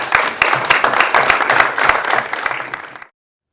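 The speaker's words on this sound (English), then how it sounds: "let's give him a big round of applause" Loud applause from an audience greeting a guest speaker, dense clapping filling about three seconds before cutting off abruptly, with no voices over it.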